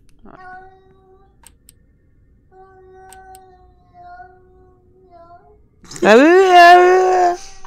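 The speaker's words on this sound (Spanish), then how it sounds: "un gato intentando hablar" A cat-like creature in Yuppie Psycho tries to talk in a series of clear, tonal, meow-like calls, then breaks into a louder wavering, wailing yowl near the end.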